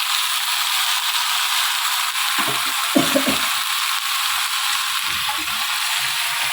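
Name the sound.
marinated mutton frying in a pan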